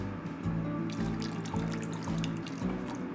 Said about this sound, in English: Now let's add in some beef broth.